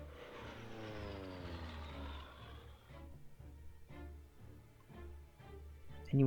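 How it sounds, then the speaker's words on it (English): Airplane engine sound effect from the Hex of Steel strategy war game, a rising propeller drone followed by a pulsing engine rumble that carries on steadily, with no talking. "This plane move here again."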